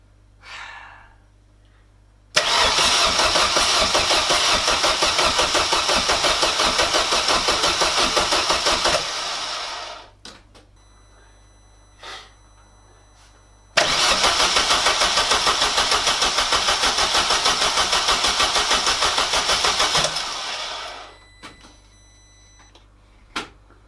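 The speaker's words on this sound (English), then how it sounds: "the engine cranks, which is great, it's a good sign, but it doesn't start" A car engine cranks twice in long starter bursts of roughly seven seconds each, whirring steadily but never catching, with quiet pauses between.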